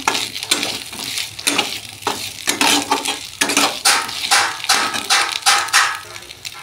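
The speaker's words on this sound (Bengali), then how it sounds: "আগে থেকে ভেজে রাখা পটল দিয়ে দেব। আর একটু ভালো করে কষে নেব।" Pre-fried pointed gourd with potato and soybean being stir-fried in a pan. Loud, close sizzling comes with repeated rhythmic scraping and clanking of a spatula against the pan, and there is no talking.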